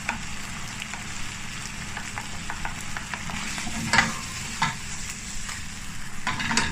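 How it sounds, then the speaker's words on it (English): Lamb mince frying in a pan and being broken up for moussaka: continuous close sizzling with repeated scraping and stirring strokes, a few louder knocks standing out. "break our lamb mince as best as we can because we don't want chunky like pieces"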